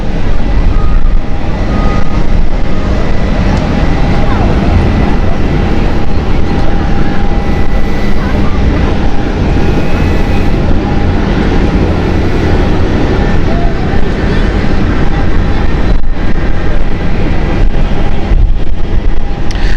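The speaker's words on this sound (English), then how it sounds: "It is an Airbus A330-300 series." KLM Airbus A330-300, built 2012, taxiing toward runway 18 left at Amsterdam Schiphol, a steady loud broadband jet engine roar with a continuous whine, unbroken for the whole stretch.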